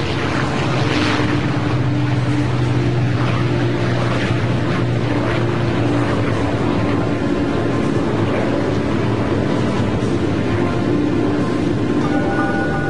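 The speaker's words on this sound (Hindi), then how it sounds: "B-29 सुपर फोर्ट्रेस बॉक्सकार ने उड़ान भरी।" B-29 Superfortress bomber Bockscar taking off, its piston propeller engines giving a loud, continuous roaring drone with a rough texture and steady low tones throughout, and no voices.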